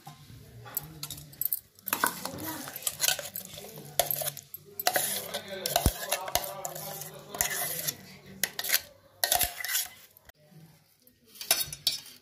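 Ground eggplant chutney is scraped and spooned from a grinder jar into a cooking vessel, giving close, irregular clinks and scrapes of utensils against metal in bursts across the clip.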